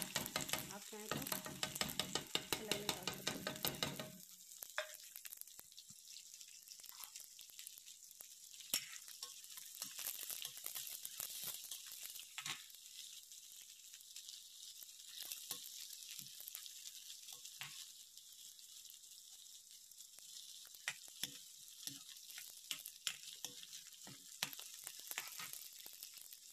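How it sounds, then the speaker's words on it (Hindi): Cumin, onion, garlic and spices fry in hot oil in a pan for a potato and pea curry, starting with a loud burst of sizzling, then settling into a steady, softer crackle with occasional stirring scrapes. "ऑयल हो चुका है, अब इसमें हम डाल देंगे जीरा। अब डाल देंगे प्याज, लहसुन, सारा मसाला डाल देते हैं।"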